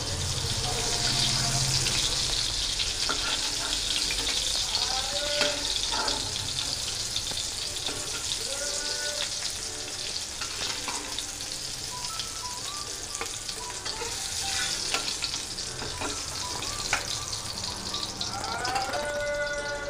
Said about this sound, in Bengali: এই যে এরকম করে বড়াগুলো আমি সব ভেজে নিচ্ছি।